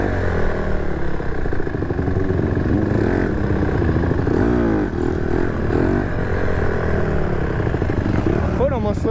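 A 2020 Honda CRF150RB dirt bike engine running continuously while riding, a loud steady buzzing drone with small pitch shifts, heard close under wind and road noise.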